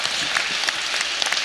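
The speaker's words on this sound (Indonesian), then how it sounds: "Tepuk tangan untuk Mandua." A brief burst of audience applause at an Indonesian religious talk, a dense continuous patter of many hands with a few sharper claps standing out, heard alone.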